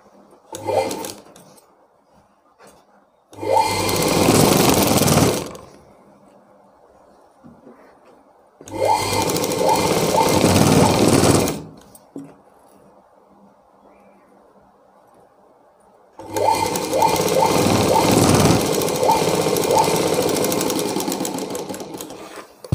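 A sewing machine stitching a back knot on a blouse runs in three bursts of rapid mechanical whirring and chattering, each lasting a few seconds, with quieter pauses of handling noise between them, heard up close.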